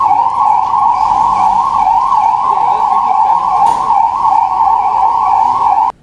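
An ambulance siren wails loud and close at a hospital mock emergency drill, its steady rising and falling tone running continuously before cutting off abruptly.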